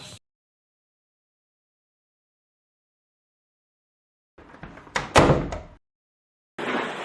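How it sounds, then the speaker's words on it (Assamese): A house door is opened after a long silence, giving a short rattling scrape and a sharp knock before another burst of noise at the end. "খুলি দিয়কচোন দুৱাৰখন"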